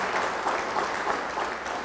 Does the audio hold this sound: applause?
yes